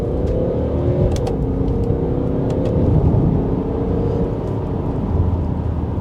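A BMW 535d M Sport F10 twin-turbo diesel saloon accelerates hard in first gear, a loud, close engine note rising under heavy rumble and road roar.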